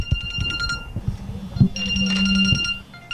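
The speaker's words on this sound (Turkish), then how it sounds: "telefon nerede çalıyor" A mobile phone rings indoors with a repeating electronic ringtone, a short burst followed by a longer ringing phrase, while someone speaks and moves around searching for it.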